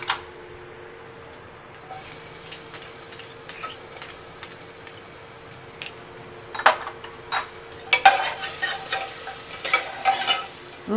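Garlic hits a hot pan of oil already fragrant with garam masala for chicken jalapeno, giving a bright sizzle that builds with scraping spoon strokes and irregular clicks, loud and close with no voices.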